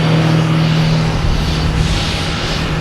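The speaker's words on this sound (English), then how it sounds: "I think that's right behind the Cape Air is Lufthansa A340. Heading back to Frankfurt." A Lufthansa Airbus A340 four-engine jet departs Boston Logan on its way to Frankfurt, a loud, steady broadband roar with a low droning tone holding for the whole stretch.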